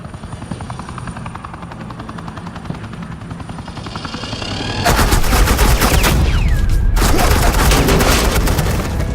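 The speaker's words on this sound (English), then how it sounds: "suppressing fire." Suppressing gunfire in a Batman video game: a low helicopter-like drone builds, then dense rapid automatic fire bursts in loud and close, pausing briefly before resuming under the engine roar.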